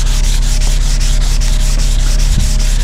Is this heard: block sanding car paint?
yes